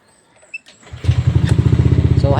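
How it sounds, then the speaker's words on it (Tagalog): A motorcycle engine starts after a few faint clicks and settles into a loud, close, rapidly pulsing idle, with a voice speaking briefly at the end. "ang gagawin natin diyan is papandarin natin yung motor"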